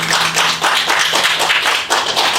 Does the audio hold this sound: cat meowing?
no